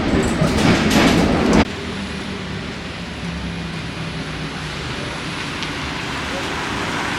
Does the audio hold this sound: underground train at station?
yes